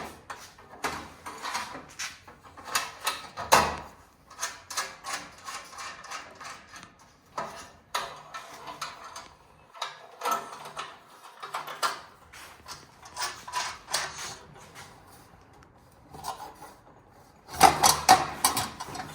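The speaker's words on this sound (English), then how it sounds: "you're going to fold these clips into the plank" Metal clips are folded by hand into the plank of a Shooting Bench USA shooting bench during assembly, making a run of close, irregular clicks, taps and clunks with short quiet gaps between them.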